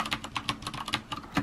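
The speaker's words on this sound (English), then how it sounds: "it was a brown switch keyboard" Typing on a mechanical keyboard with brown switches, a steady run of soft, close key clacks at an even, fairly quick pace with no talking.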